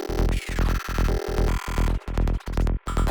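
Psytrance FM lead synth run through an Infiltrator glitch effect with the mix at maximum, playing loud, dense, choppy sequenced notes cut by abrupt stutters and gaps, with no voices.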